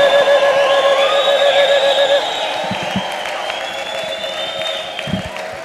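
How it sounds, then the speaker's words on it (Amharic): A church congregation ululates loudly in high trilling waves, with whistles and scattered claps beneath, the shrill ululation fading after a couple of seconds into a sustained crowd roar. "ባፋችሁ እልልታ ጮህ ጭብጨባ ፉጨት ለጌታ ለኢየሱስ ክርስቶስ ክብር"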